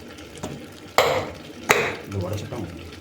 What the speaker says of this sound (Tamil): இது கொஞ்சம் தட்டுறோம்.